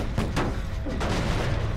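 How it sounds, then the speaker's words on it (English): Fireworks go off in the horror video game Dead by Daylight, a loud run of overlapping booms and crackling bursts that rumbles on without pause through the whole stretch. "I can appreciate the fireworks, though."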